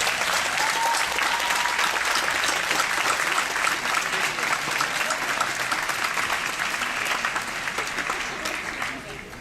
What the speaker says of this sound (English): I'd like to give a round of applause to all the family members who support our